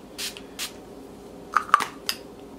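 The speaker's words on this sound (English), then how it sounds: "If you were wondering what setting spray I just used, it is the Wet n Wild Photo Focus Natural Finish Setting Spray." Two quick hissing bursts of Wet n Wild Photo Focus Natural Finish setting spray, close and fairly soft, followed by a few faint clicks and light taps.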